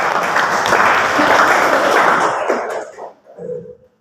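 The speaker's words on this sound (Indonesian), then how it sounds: "tepuk tangan" A classroom of students clapping their hands together, loud and close at first, a dense burst of claps for about three seconds that thins out and stops abruptly, followed by a brief murmur.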